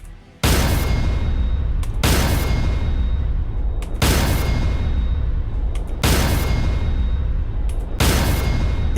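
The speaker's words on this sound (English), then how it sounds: "Oh, Elden Ring. Now that to me is about the sweetest sound imaginable." An Elden Ring parry sound effect from the video game, a loud, booming metallic clash repeated five times at a steady two-second rhythm, each hit ringing out before the next, with no voices.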